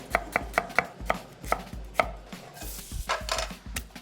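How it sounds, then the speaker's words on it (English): Knife chopping aromatics such as garlic, ginger and lemongrass on a cutting board for a pumpkin soup sauce, a quick run of crisp close knocks followed by slower, irregular cuts, no speech. "We're gonna cut some aromatics for our sauce."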